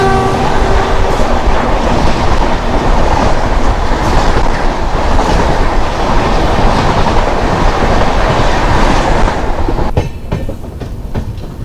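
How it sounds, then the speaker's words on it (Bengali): The Dibrugarh–Kanyakumari Vivek Express rushes past close by, a loud continuous roar of rolling wheels and clattering wagons for about ten seconds, then easing slightly as the last cars go by. "এবার আসবে 22-504 ডিব্রুগড় কন্যাকুমারী বিবেক এক্সপ্রেস।"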